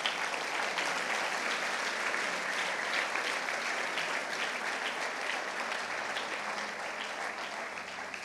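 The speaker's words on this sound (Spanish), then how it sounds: "Dale el aplauso al Señor" A church congregation applauds in a continuous, dense burst of clapping that fills the room steadily for several seconds, close and loud, with no voices standing out above it.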